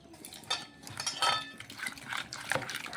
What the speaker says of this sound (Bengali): দেখুন ব্যাটারটা আমি হাত দিয়ে ভালোভাবে একটু ফেটিয়ে নিচ্ছি।